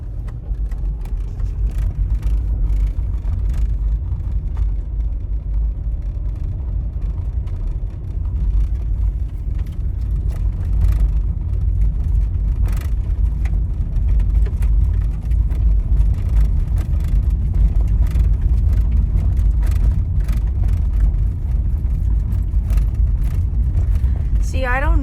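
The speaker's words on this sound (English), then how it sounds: "Now we hit the gravel." A car rolls from pavement onto a gravel road, with a continuous low engine and tire rumble throughout and people talking inside the vehicle.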